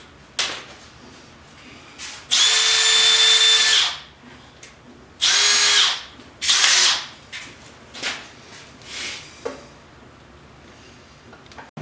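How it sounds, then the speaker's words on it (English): An old power drill runs in several separate bursts, a long steady whine of about a second and a half followed by shorter spins and brief revs, loud and close with no talking. "let me put this in the old drill."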